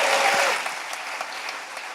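A burst of applause from a demo day audience, clapping loudly at first and then thinning out into scattered claps.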